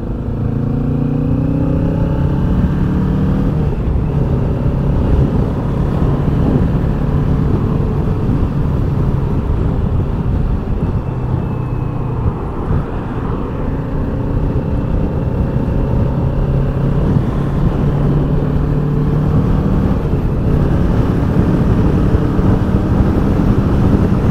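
A Kawasaki Ninja with a two-cylinder parallel-twin engine drones loudly and steadily while being ridden, its pitch climbing and dropping through gear changes under constant rushing wind noise.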